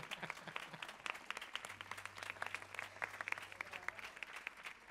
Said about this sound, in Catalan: jo demano un aplaudiment al que no es veu però hi és